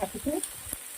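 Onions and tomatoes fry in a pan for a chole makhana curry, giving a soft sizzle beneath a brief stretch of talking at the start, then a faint tap near the end.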